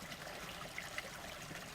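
A soft, steady mountain stream trickle burbles continuously nearby on a trail near Mount Laguna, with a couple of faint splashy accents and no voices.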